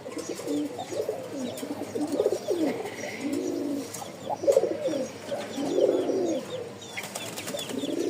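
A male pigeon from a Rajshahi high-flying flock coos close by in a steady run of soft, rolling coos that repeat across the whole stretch, with faint bird chirps above and no talking.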